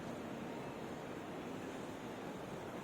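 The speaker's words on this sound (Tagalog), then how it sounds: "Makikita mo guys, ito yung yan ang dagat." Sea waves wash in steadily at JBR beach in Dubai, a continuous soft roar of surf mixed with wind and no clear voices.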